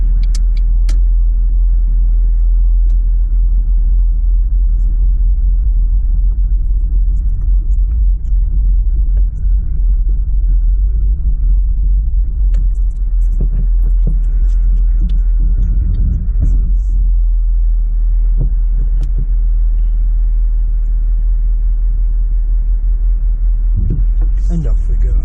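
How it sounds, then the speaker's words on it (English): A car drives home from work along the road, its steady engine rumble and low road hum continuous and loud throughout, with brief louder bumps and shifts partway through. "Here we go guys, it's a quick drive home from work."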